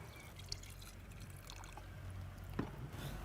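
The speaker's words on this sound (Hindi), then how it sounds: "पानी डाल देते हैं इसमें." Water pours from a vessel into a pot in a kitchen before fish is boiled, a faint, steady trickling splash with a few small drips, heard alone against a low background hum.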